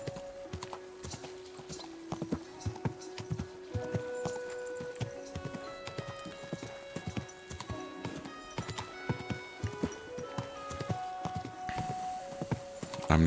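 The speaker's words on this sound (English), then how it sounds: "Easy, good horse." Horse hooves clip-clop steadily at a walking pace while riding in Kingdom Come Deliverance 2, with game music tones playing over the rhythmic footfalls throughout.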